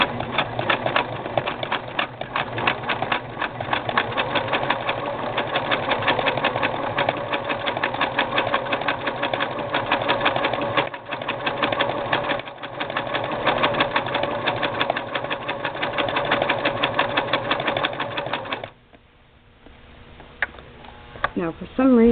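Singer 6212C sewing machine stitching a dense zigzag satin stitch for embroidery, a rapid, steady mechanical chatter running close and loud for most of the time before it stops, followed by faint handling.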